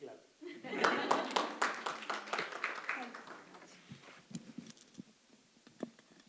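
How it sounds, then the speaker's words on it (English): An audience at a brand and trademark protection panel session gives a big round of clapping that swells quickly, then tapers off into scattered claps while voices murmur nearby. "This is a big clap."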